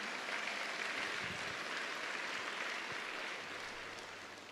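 Applause from a congregation at a church sermon: a steady, even patter of clapping hands, fairly faint and distant, that tapers off slightly toward the end, with no voices over it.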